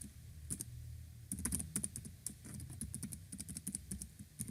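Password keys tapped on a computer keyboard during an account login, a steady run of close, crisp clicks in quick uneven bursts with no voices.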